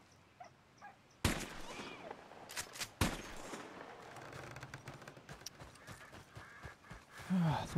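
Two sharp, loud gunshots in the video game Red Dead Redemption 2 ring out about two seconds apart, followed by game ambience, rustling and a short voice-like cry near the end.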